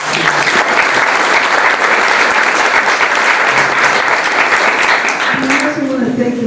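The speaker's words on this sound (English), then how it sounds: "So we want to give them another round of applause." A room of people at a policy breakfast gives panelists sustained, dense applause that holds steady for about five seconds before a voice begins speaking over the fading claps.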